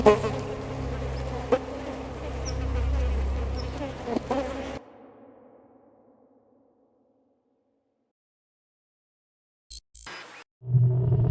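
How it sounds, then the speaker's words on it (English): Flies buzz around a cluttered hoarder's apartment, a steady close droning hum for several seconds that cuts off into silence, followed by a couple of brief clicks and a low thump near the end. "The endless number of flies that had made his apartment their home buzzed around his head."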